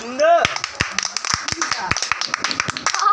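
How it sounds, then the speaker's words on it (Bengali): People at a friend's birthday gathering clapping hands, a run of quick close claps in a rough rhythm under lively talk and voices. "হাতে তালি দাও হাতে তালি"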